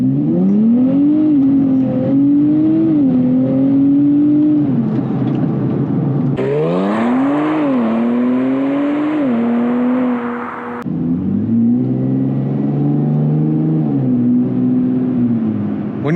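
A 2025 Nissan Z Nismo engine in Sport Plus drive mode revs loudly and up close, rising and falling through several swells with one sharp, higher-pitched surge in the middle before settling back into a steady growl; no one speaks.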